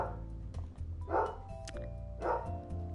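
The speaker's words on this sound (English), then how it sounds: "Oh, sorry, that would be my dog." A dog heard in the background of a Japanese mystery adventure game, giving two short bark-like bursts about a second apart, moderately loud over a steady low ambient hum and music.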